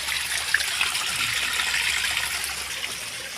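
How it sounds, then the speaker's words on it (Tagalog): Very heavy rain pours down at a landslide site, a steady broad hiss of rainfall and running water filling the scene with no talking. "Sobrang lakas ng ulan."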